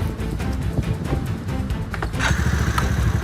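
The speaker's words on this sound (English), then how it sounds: "Oh, quad bike." Quad bike engine running steadily nearby, a broad continuous rumble that grows slightly louder toward the end.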